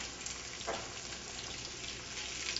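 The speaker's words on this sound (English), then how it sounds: "And I'll let those saute a little bit" Sliced zucchini and onions sauté in a pan, a quiet continuous sizzle with soft crackles and a brief stir partway through, no voices.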